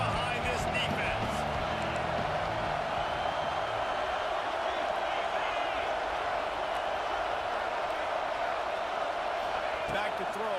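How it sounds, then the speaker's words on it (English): Steady roar of a large football stadium crowd cheering for the defense during a Florida vs Mississippi State game, continuous and dense throughout, with a commentator's voice audible over it. "Big third down as the crowd gets behind this defense."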